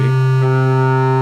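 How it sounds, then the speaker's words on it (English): A sustained bowed string note with a wavering, slightly unsteady pitch that shifts partway through, sounding a little out of tune. "You can hear it's kind of warbly"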